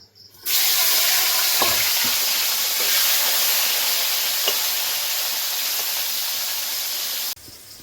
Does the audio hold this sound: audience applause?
no